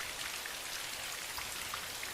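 Steady rain falls at night, a dense even patter of drops on surfaces, constant and close with no voices.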